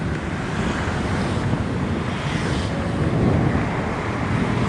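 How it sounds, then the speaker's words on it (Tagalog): Wind buffets the microphone in a steady, loud roar during an outdoor run beside a busy road, with low rumbling gusts that swell slightly near the end and no speech. "Ang hangin kasi."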